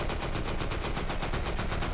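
Sten gun firing full-auto in Hot Dogs, Horseshoes & Hand Grenades: a rapid, evenly spaced burst of around fifteen shots, loud and continuous across two seconds, no voices.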